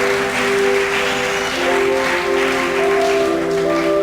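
A church congregation claps steadily and loudly for several seconds, the sustained applause mixed with tonal organ or keyboard chords ringing underneath.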